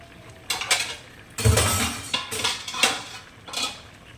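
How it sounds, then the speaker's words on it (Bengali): Cooked apple and tomato fruit chutney is poured from a pot, with a series of metal clanks and scrapes of spoon against pot at irregular intervals, close and without talk. "আপেলগুলো সিদ্ধ হয়ে গেছে টমেটো সিদ্ধ হয়ে গেছে এবারে আমি ঢেলে নেব"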